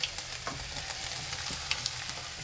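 Shredded cabbage sizzling in a pan over cumin tempering; a steady, bright frying hiss with light clicks and pops, close and continuous, no voices.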